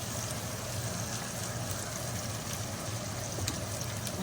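Chicken boiling in a pot for Vietnamese bun thang noodle soup, a steady close bubbling and hissing simmer with constant broadband wash and small pops, no voices.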